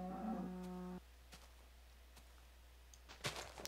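One brief Minecraft cow moo sounds at the start and stops after a second. A few faint clicks and taps follow in a quiet background.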